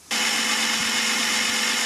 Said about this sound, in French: présentation de la perceuse à colonne de Parkside, la PTBM 710A1